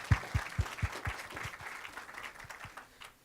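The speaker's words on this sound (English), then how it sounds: "yes, that's worthy of an applause." A small indoor audience at a community event gives a brief, faint round of applause, a few distinct claps at first that thin out and fade over about three seconds.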